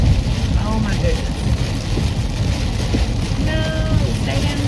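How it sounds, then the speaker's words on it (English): Heavy rain falls outdoors as a dense, steady hiss throughout, with occasional voices faintly above the downpour. "it's raining so hard"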